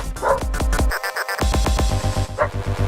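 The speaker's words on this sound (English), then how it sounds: "Crazy dog." A dog's bark is chopped into rapid rhythmic repeats over a beat, loud and punchy, with a short silent gap midway before the stuttering barks resume.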